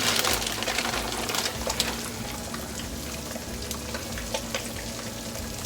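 Colby Jack cheese fries loudly in a hot pan, a dense, continuous crackling sizzle with scattered pops and no voices over it.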